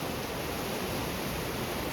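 Surging river water of the Alaknanda at Devprayag, a steady broadband roar of rushing current that stays continuous and fairly loud throughout, with no voices.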